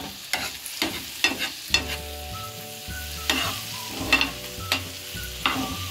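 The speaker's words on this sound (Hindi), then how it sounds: "इसमें मैंने 1 प्याज डाला, 8-10 कलियाँ लहसुन की डाली हैं, और 2 टमाटर डाले हैं। अब इनको अच्छी तरह फ्राई कर लूँगी।" Chopped onion, garlic cloves and tomatoes fry in a pan for tawa kaleji with a steady sizzle. A utensil stirs and scrapes the pan in a series of clattering strokes, close up, with no talking.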